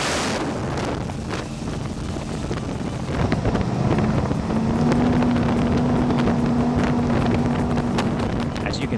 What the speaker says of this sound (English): want an idea of what it feels like to bring this boat up to 80 miles per hour?